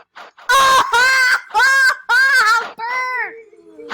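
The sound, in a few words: bird, chicken-like clucking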